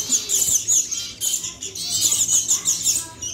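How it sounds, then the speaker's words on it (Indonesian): High, thin chirps from sooty-headed bulbul chicks, repeated in quick bursts close by, with no talking. "Terus nih ada kutilang guys."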